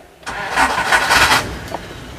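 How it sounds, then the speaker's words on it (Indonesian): A 1994 Chevrolet Trooper 4WD Hi Roof cranks briefly and fires up, its engine swelling loudly for about a second before settling into a steady idle, heard close by. "Sekarang kita hidupkan mesinnya."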